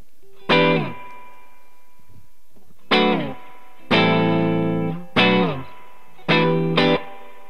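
Clean electric guitar chords strike one at a time through a valve amp with spring reverb, each ringing out with a washy, splashy reverb tail between pauses.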